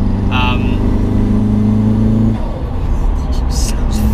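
A turbocharged Renault Clio 182 with 325 bhp revs loud and close, holding a steady drone that drops off partway through. Chatter and clicks come in toward the end.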